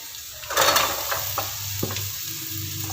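Ginger, green chilli and curry leaves are stirred as they fry in hot oil in a pan: a steady sizzle under a few light scrapes and taps of the spoon, with no voices.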